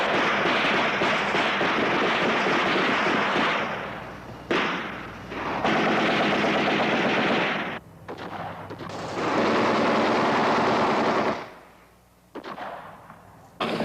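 Gunfire during the attack on the U.S. Embassy compound in Saigon in 1968, dense and sustained bursts of shooting in long loud stretches broken by a few brief lulls.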